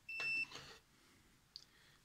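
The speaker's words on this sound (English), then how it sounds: "the meter's beeping" A meter on the bench beside a faulty early UK Explorer HF linear amplifier gives a short electronic beep, then a fainter chirp after a pause, quiet room otherwise.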